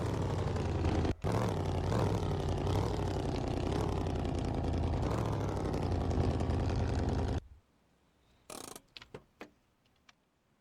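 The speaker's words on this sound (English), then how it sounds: "It's definitely got a very nice engine sound." A car engine idles with a steady, throaty rumble for several seconds, then cuts off, leaving a few faint clicks and knocks.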